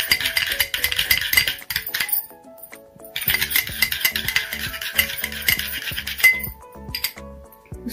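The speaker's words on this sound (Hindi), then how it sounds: "इसको भी अच्छे से मिक्स कर देंगे" A spoon stirs a honey and aloe vera face scrub in a bowl, giving a run of close, bright clinks and scrapes against the dish with a short pause midway.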